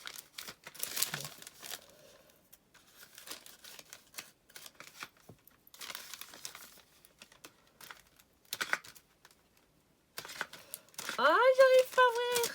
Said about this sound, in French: Oh non, je ne veux pas arracher le papier.